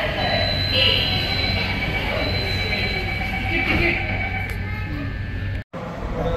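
A Mumbai metro train arriving at Worli station gives off a loud, steady rolling rumble with a faint high tonal whine, and people talk over it throughout.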